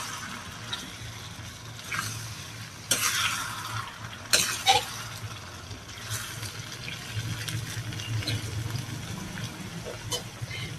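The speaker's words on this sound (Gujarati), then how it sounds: "હવે ચમચાની મદદથી આપણે હળવા હાથે પાત્રાને મિક્સ કરવાના છે." A spoon gently stirs patra into a Surti-style turiya (ridge gourd) curry in a pot, soft scraping and sloshing with a few sharper clinks against the rim over low steady kitchen background.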